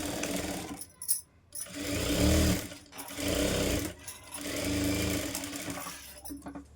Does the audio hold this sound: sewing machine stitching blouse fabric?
yes